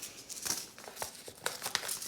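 Paper towel being opened up and unfolded for germinating pepper seeds, giving soft, scattered crinkles and rustles in short bursts, close and fairly quiet.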